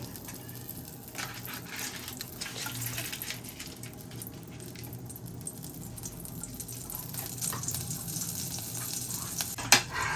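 Butter and oil sizzle in a pan while pasta is being cooked, a continuous hissing fry with clinks and scraping from the pan and a sharp knock near the end.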